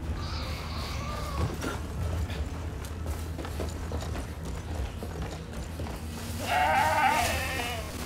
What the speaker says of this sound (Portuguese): Olha quatro ovelhas, né?